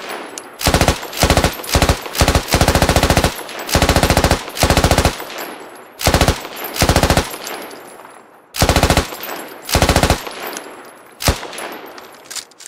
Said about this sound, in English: up is your machine gunner, which just looks to be like an FN mag